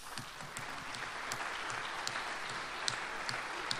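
Applause from the hall at a federation general assembly for the U23 fin swimming team, a steady, even wash of many hands clapping, with a few sharper individual claps standing out near the listener.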